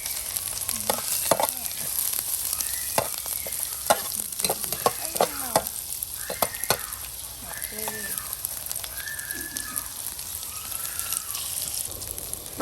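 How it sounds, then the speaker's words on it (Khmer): Garlic fries in a wok with fat and shallots: a constant close sizzle with rapid clinks and scrapes of stirring throughout. "បន្ទាប់មកទៀតដាក់ខ្ទឹមសចូល"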